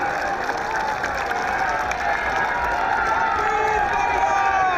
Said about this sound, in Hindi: जोरदार तालियों से मुख्यमंत्री भूपेश बघेल जी का स्वागत करें